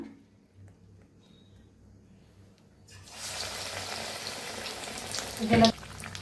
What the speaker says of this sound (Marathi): आता ह्याला बी छान असं तळून घेऊया